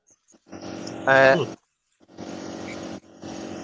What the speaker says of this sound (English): It's a compressor.